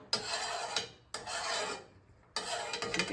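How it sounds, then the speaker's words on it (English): A utensil scraping seasoning off the side of a pot of homemade shrimp stock, three long grating strokes separated by brief pauses, close and fairly loud, no speech. "I'm just scraping the seasoning off the side of here because we want all that in our shrimp"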